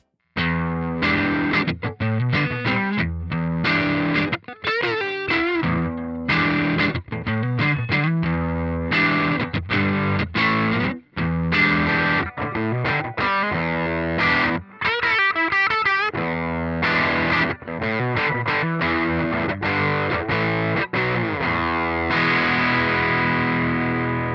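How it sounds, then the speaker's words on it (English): Distorted electric guitar played through an amp speaker, miked with an SM57 placed at the center of the cone and angled 45 degrees, riffing loud and close with chordal strums and brief pauses. "Electric guitar mic'd up with an SM57 is a familiar sound."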